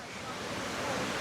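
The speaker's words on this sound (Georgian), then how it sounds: "ჩამოისხმება წყალი." A waterfall in Tbilisi pours water down, making a continuous rushing roar that stays steady and moderately loud for the whole short stretch, with no talking over it.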